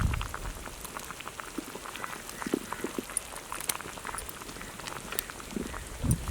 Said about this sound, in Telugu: పులుసు బాగా తెరులుతుంది